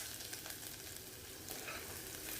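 Finely chopped onion sizzles steadily in hot oil for a Malvani-style clam curry, a dense continuous frying hiss with faint stirring scrapes, no talking.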